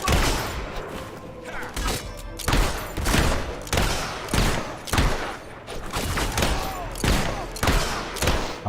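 Dense gunfire from a firefight in the Fable III video game, with volleys of rapid shots and heavy thuds repeating steadily throughout, loud and close.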